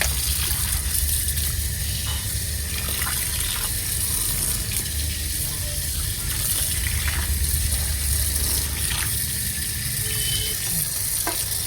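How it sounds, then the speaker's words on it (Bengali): Bottle gourd leaves being washed in water, a continuous splashing and running-water wash with scattered soft clatters, close and steady throughout. "সব পাতাগুলো আমি একটা একটা করে ধুয়ে নেব।"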